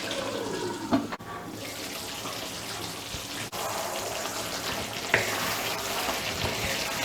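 Country chicken masala frying and reducing over a medium flame in Manipuri style, a steady close sizzle and bubbling hiss with occasional stirring clinks and scrapes, no voices.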